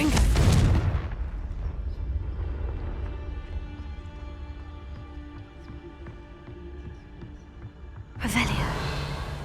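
A Confringo fire spell in Hogwarts Legacy goes off with a sharp whooshing blast, followed by a low rumbling tail, then a second burst near the end.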